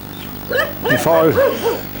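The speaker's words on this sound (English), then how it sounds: "We've got dogs chasing us here, look." Several dogs yip and bark excitedly in quick overlapping bursts close by as they chase a cyclist, with a low rumble underneath.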